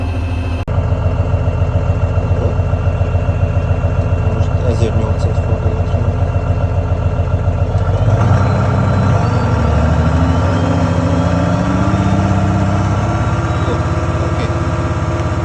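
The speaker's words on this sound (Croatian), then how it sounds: "Ajde mi da izmerimo zvuk u ovom traktoru, jačinu zvuka na osnovnom broju obrtaja i na 1800 obrtaja u minuti." A YTO ELG 1754 tractor engine runs steadily at idle with a low mechanical drone, then its pitch and loudness rise as it revs to 1800 rpm partway through.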